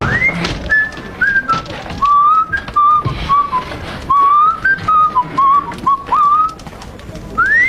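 A person whistles a wavering tune, phrase after phrase, loud and close, with soft background noise and no talking.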